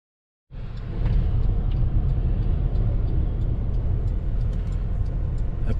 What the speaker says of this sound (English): so you don't get bored sitting watching this tractor run